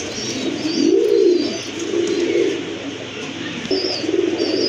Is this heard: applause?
no